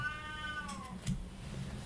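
A cat meows once with a drawn-out, falling tone, faint against a low indoor hum with a couple of soft bumps.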